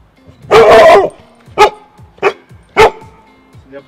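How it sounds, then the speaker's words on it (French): A Cane Corso dog barks close by, one long bark followed by three sharper, shorter barks with pauses between them. "Il n'y a pas le même aboiement."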